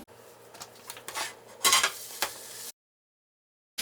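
Bean omelette being flipped in an oiled frying pan, a few close metallic scrapes and clatters of a spatula against the pan over a light sizzle, then sudden quiet.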